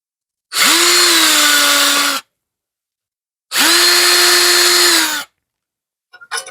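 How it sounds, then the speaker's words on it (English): A power drill bores pilot holes for screws into wood while building a tin-roofed bird nesting box, in two loud, steady whirring bursts of about two seconds each, separated by a pause, then a few faint clicks. "we want to come in here and drill a couple holes just for our screws for pilot holes"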